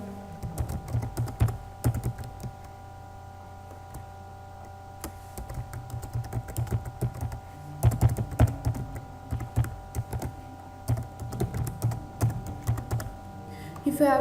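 Steady clatter of keys on a computer keyboard as an email address is typed, bursts of quick keystrokes separated by short pauses, close and clear with no talking.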